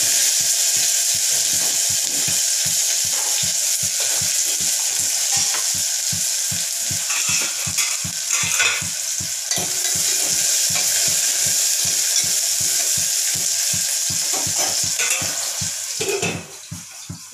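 Onions frying in hot oil with mustard seeds give a loud, steady sizzle with rhythmic stirring scrapes against the pan, continuing throughout before quieting at the very end.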